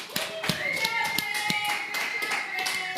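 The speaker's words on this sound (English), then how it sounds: "Clap this guy off." A small audience at a live call-in show claps while someone talks over it, with brisk uneven hand claps and taps scattered across a few seconds.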